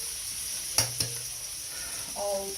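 An egg goes into fried rice in a hot pan: a steady sizzle under two quick utensil clacks, then a brief rising hiss as the egg hits the oil, close and moderately loud.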